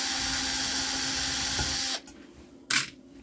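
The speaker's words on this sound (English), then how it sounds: "Pulled a lot of stuff apart with this assembly driver." An electric assembly driver whirs steadily while pulling apart e-waste, a close, continuous motor drone that stops abruptly, followed by a couple of short spray-like bursts.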